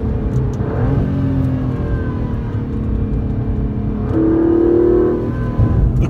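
An Aston Martin DB11 engine revs hard while the car drives a winding road, a loud, steady growl rising and falling with a swelling surge near the end, with no talk over it.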